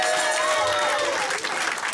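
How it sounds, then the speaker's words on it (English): A wedding congregation in a church breaks into loud, dense applause during the ceremony, a steady crowd of clapping with a few voices mixed underneath. "Give the Lord a good clap of"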